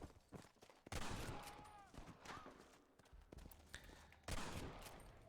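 Gunfire in the Red Dead Redemption video game, with several sharp shots cracking out, the loudest near the start and another later, mixed with horse hoofbeats and other game sounds at moderate level.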